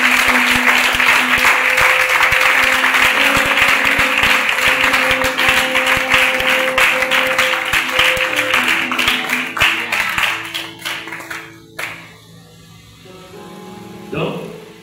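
A church congregation at a Tuesday service applauds loudly and steadily. The clapping thins into scattered claps and fades, then a brief burst comes at the end. Music plays beneath it.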